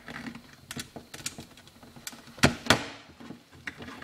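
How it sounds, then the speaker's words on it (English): Xbox controller plastic button clicks tapping out at an irregular pace, mostly light with a couple of sharper, louder clacks, close up and with no voices. "That's the sound of a working controller."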